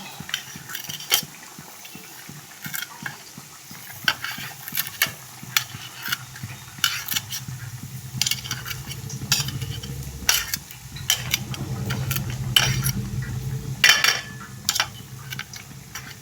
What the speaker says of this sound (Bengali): ধনে পাতাটা একটু এই দেখো কেটে নিচ্ছি